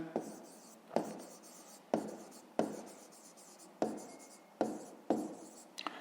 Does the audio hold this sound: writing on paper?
yes